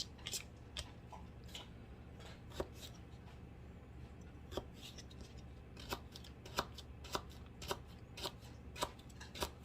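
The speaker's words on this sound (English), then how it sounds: "My dogs are on the other side of the counter eating their food. That's what all the crunching and munching you hear going on back there." Pet dogs crunch and munch dry food behind a kitchen counter, a quiet, irregular series of sharp crackling bites in a faint room with low background hum.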